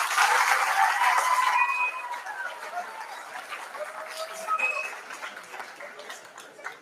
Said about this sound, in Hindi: जोरदार तालियों से अपने कुलपति महोदय का हम स्वागत करें। तालियां सब बज रही हैं।